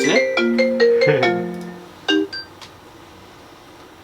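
Incoming-call ringtone on a phone plays a bright, quick melodic chime pattern that rings out and fades, followed by a couple of brief tones, loud and close.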